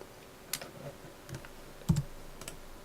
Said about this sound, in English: as you hear the clicking of my mouse